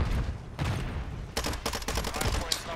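Rapid bursts of shotgun fire in Modern Warfare 3, sharp blasts clustered in quick succession after a short lull, loud and close in the game mix.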